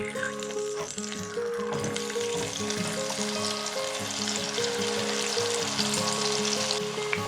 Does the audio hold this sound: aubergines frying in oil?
yes